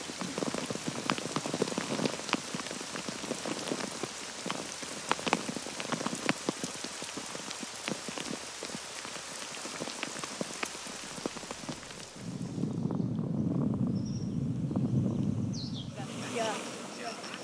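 Sleet and hail pour down on a Himalayan trail toward Makalu, a dense steady patter of icy drops against surfaces and gear, with a gusty rush of wind noise near the end.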